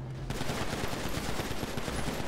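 Rapid video game gunfire from a street shootout rattles off in dense bursts, loud and continuous, with a brief quiet moment before the shots begin.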